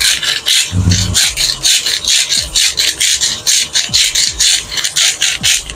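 A hand salt grinder cranks pink mineral salt in a home kitchen, producing a loud, close, rhythmic series of gritty rasping crunches, about two per second, steady throughout with no talking.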